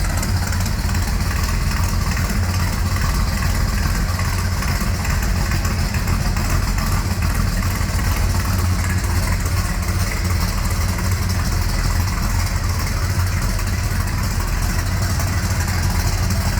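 A 1964 Chevrolet C10 pickup engine idles steadily and loudly up close, with a constant low rumble and no talking.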